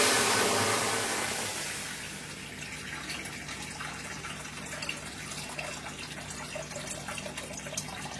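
Water poured into a cooking pot of mutton with chuijhal, a steady watery rush that starts loud and eases into a softer, sustained pour with faint splashes.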